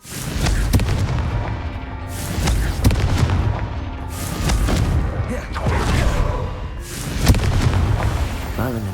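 The Confringo fire spell goes off in Hogwarts Legacy, giving a steady run of loud, booming blasts with crackling tails. The explosions layer over each other in a dense, continuous barrage.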